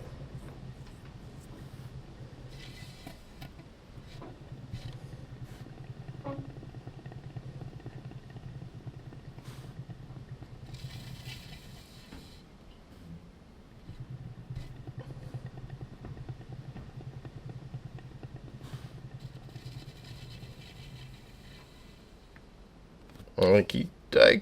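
A spinner turns a canvas covered in a heavy load of pour paint, giving a low, steady motor hum that runs, stops briefly and starts again, with a few clattering knocks near the end.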